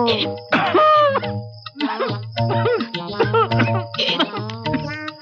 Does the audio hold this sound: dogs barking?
no